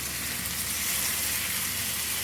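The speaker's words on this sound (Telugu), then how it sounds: "5 ముక్కలు అయితే ఫ్రై చేస్తున్నానండి." Fish pieces frying in a pan: a steady, close hiss of crackling oil that runs the whole time, with no voices over it.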